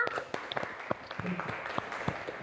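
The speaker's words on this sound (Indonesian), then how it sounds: "tepuk tangan untuk kita semua" A small group clapping during a music lesson on intervals, with sparse, uneven claps heard close by and faint murmuring underneath.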